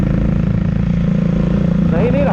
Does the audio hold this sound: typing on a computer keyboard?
no